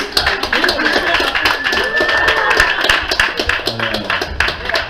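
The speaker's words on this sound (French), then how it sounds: "On applaudit." Applause from a small audience at a French poetry reading, clapping with scattered voices talking over it, moderately loud and continuous through the short stretch.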